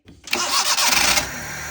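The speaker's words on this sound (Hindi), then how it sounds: "कीजिए, गाड़ी कीजिए स्टार्ट जी।" A car engine with a reported tapping noise cranks briefly, catches and settles into a steady, loud idle close by, with no voices.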